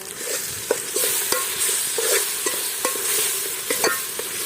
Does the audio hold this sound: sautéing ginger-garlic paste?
yes